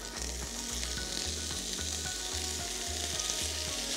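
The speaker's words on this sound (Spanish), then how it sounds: "Vamos a verter el tofu en la sartén bien caliente." Tofu poured into a very hot frying pan sizzles loudly and steadily up close, with a faint repeating low hum beneath the dense hiss.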